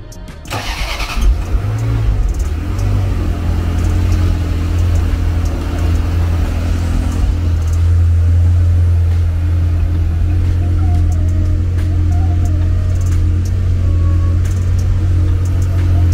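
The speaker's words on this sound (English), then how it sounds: "This is the cold start video for the 1994 Ferrari 348 Spider." A 1994 Ferrari 348 Spider starting from cold: a quick cranking burst catches into a loud, steady, deep idle that holds close and unbroken with slight fluctuations.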